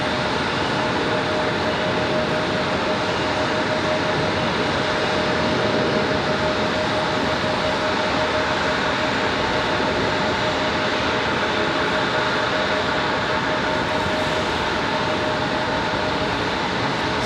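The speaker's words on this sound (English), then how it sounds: "American Airlines 2083 coming in from Washington, D.C." An American Airlines jet lands at Raleigh-Durham International Airport, producing a loud, continuous broadband roar of engines and rushing air that holds steady throughout, with no talking.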